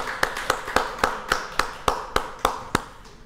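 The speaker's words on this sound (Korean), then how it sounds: "우리 한 영광의 박수를 드리겠습니다" A church congregation claps together during a Sunday worship service, ten sharp, evenly spaced claps in a steady rhythm that fade toward the end, with no talk over them.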